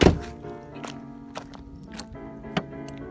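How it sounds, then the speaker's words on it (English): Trunk lock button on a 2004 Volkswagen Golf clicking, heard as a thunk followed by a few soft, separate clicks and knocks, close by in a quiet setting. "the lock for the trunk button works. If you rewind and turn up your volume, you can hear it"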